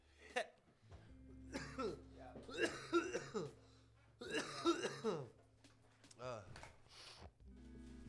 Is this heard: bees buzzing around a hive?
no